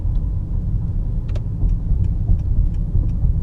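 Cabin drone of a 2018 Honda Accord 2.0T Touring with a 2-liter turbocharged four-cylinder, a steady loud low rumble of engine and road noise while driving, with a few faint clicks and no talk.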